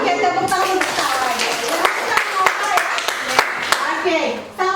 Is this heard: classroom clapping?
yes